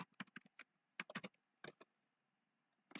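Quick bursts of keystrokes clatter on a computer keyboard in short irregular clusters with pauses between, close and fairly quiet, no talking.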